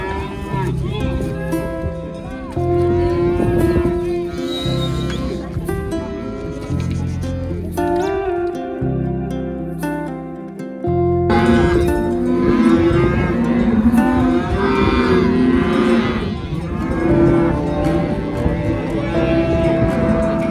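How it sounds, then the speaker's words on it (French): Cows and calves in an Aubrac transhumance herd moo repeatedly, close and loud, several animals calling over one another as calves find their mothers, with music-like tones and some talk underneath. "Petit à petit, les binômes se reforment, chaque veau retrouvant sa mère."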